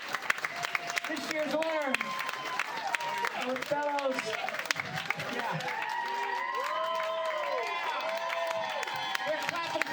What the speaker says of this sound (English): put your hands together for Mr. Cheeks